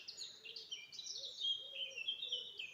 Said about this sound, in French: Je choisis les oiseaux qui chantent.